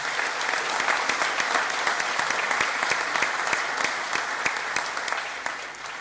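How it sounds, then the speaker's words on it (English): Steady audience applause at a college graduation ceremony for aviation and engineering graduates, moderately loud crowd clapping with distinct individual claps throughout, tapering slightly at the end. "I think we should give them a round of applause as well"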